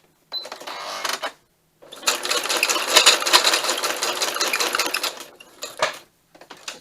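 A sewing machine stitches around craft pieces in two bursts of rapid, rattling mechanical clatter, a short run first and then a longer steady one, separated by brief silences.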